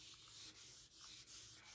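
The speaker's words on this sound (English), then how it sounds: "sanding on the fender" Wet sanding a car fender by hand in a garage, a soft hissing rub in steady back-and-forth strokes, faint and close with no talk.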